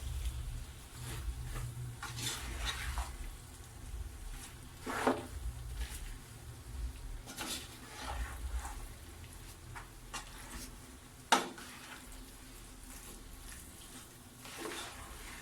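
Macaroni being stirred in a pan after boiling, a steady wet sizzle and scrape with a few sharp clinks of the spoon against the pan.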